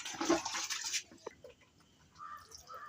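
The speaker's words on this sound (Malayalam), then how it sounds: "വിമറോളിൻ്റെ ടോണിക്കാണ് നമ്മളിപ്പോൾ ഇതിൽ ഒഴിച്ചിരിക്കുന്നത്" Liquid tonic poured into a buffalo feed mix gives a brief close splashing pour for about a second, followed by a few faint drips and quiet handling noises.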